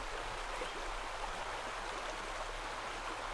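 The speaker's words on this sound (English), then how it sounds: "You've got the Poole Creek bubbling away there" Poole Creek bubbles and rushes in a steady, close, continuous flow outdoors in spring, with no birds clearly standing out above the water.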